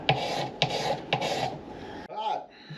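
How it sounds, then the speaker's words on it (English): A metal scraper rasps back and forth across a guitar fingerboard being leveled at the 15th fret hump, three rhythmic close strokes followed by a brief different scraping sound. "I'm going to cross scrape, and that'll help keep the fingerboard in one direction"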